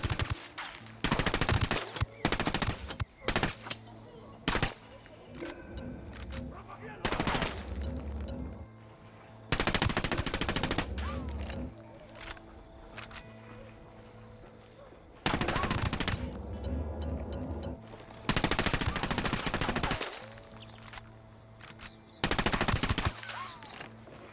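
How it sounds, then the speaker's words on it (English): Automatic rifle bursts from a Ghost Recon Wildlands firefight, a series of loud, close rapid-fire volleys separated by quieter gaps, with scattered single cracks in between. "Taking the shot"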